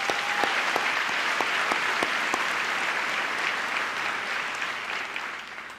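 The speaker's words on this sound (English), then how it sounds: "I would still like to give them a round of applause." Audience at a Class of 2024 high school graduation ceremony applauding, a dense, steady wash of many hands clapping in a large hall that holds evenly for several seconds before slowly easing off.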